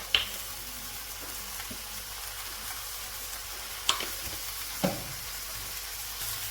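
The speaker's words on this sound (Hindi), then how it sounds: "अब हम इसमें सोया सॉस और सिरका डाल देंगे" Soy sauce and vinegar hit a hot pan of cabbage and onion filling, giving a continuous close sizzle and fry with a few sharp clicks of a utensil against the pan.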